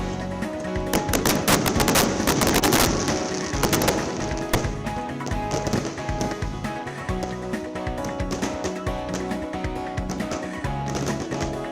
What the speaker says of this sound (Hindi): श्री गुरु नानक देव के 556वें प्रकाश पर्व पर गुरुद्वारे में आतिशबाजी का प्रदर्शन भी हुआ था।